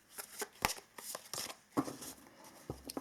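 Tarot cards being shuffled by hand, a run of quick papery riffles and slaps at close range, irregular in rhythm, with no talking over them.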